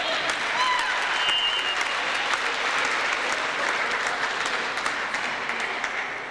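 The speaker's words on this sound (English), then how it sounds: "Let's give another round of applause for the cheerleaders for the Cavs." A crowd applauds cheerleaders at a youth Little League basketball championship game, steady sustained clapping across a gym, fairly distant and even, with a few faint whistles and cheers mixed in.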